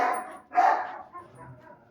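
Two barks from a golden retriever or cocker spaniel on a farm, the second louder, fading into softer whimpering and faint noise.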